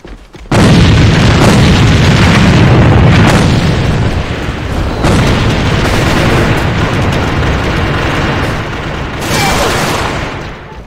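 A grenade detonates with a loud booming blast in the online shooter A.V.A Global, followed by sustained rumbling, gunfire and further bursts filling the scene.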